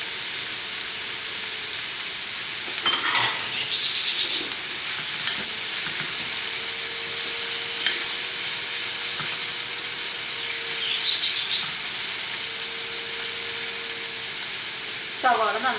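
Sliced onions with crushed garlic, ginger and curry leaves sautéing in a pan for Kerala-style beef fry, a steady close sizzle with occasional scraping stirs and brief bursts of louder crackle.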